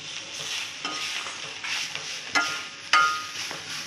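Drumstick leaves are stir-fried with peanut powder, a spatula scraping and tapping the pan in irregular strokes over a soft, steady sizzle, close by and fairly quiet.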